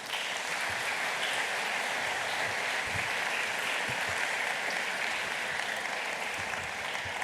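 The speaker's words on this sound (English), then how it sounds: "Please give them a warm applause" Steady, dense applause from an audience welcoming panel members at a student panel discussion, a continuous wash of clapping that stays at an even loudness throughout, with no speech over it.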